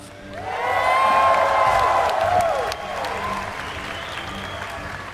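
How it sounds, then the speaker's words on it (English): At the MLG Dallas StarCraft 2 grand finals, an arena crowd breaks into loud applause and cheering for StarTale Life, swelling quickly and then easing into steady clapping with scattered whoops. "make some noise for StarTale Life"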